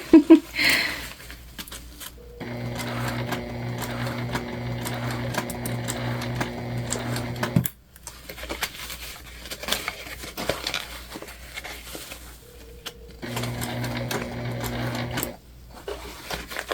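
A sewing machine stitching an Aurora shoulder bag from Petal Sewing Patterns, running in two steady, buzzing stretches separated by a pause filled with soft handling and rustling.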